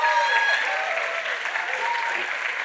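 Dense, sustained applause from an audience at an arangetram dance performance, steady and loud across the whole stretch, with a voice talking faintly beneath it.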